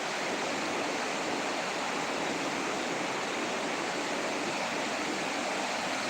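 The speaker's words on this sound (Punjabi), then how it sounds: "ਇੱਥੇ ਇੰਨੀ ਸਪੀਡ ਨਾਲ ਪਾਣੀ ਆ ਰਿਹਾ ਤੁਹਾਨੂੰ ਇੱਥੋਂ ਅੰਦਾਜ਼ਾ ਹੋਊਗਾ ਵੀ ਕਿੰਨਾ ਪਾਣੀ ਚੱਲ ਰਿਹਾ" Sutlej river water rushes through 32 open dam gates during flooding in Punjab, a dense, steady broadband roar that fills the whole stretch at even loudness, with no voices over it.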